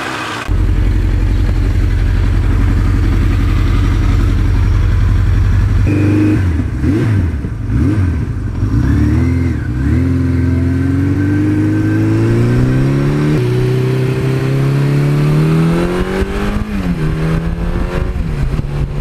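A 1982 Suzuki GS1100E motorcycle engine idles loud and close with a deep, steady rumble, then is revved repeatedly in rising and falling sweeps before settling back.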